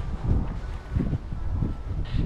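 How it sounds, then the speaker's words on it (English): Strong wind buffets the microphone in low, gusty rumbles that rise and fall, close and fairly loud. "Very windy here."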